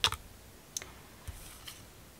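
Scissors snip through craft paper pieces in a few short, quiet clicks spaced about half a second apart, close by and without talk.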